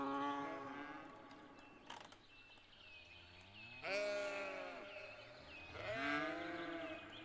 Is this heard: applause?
no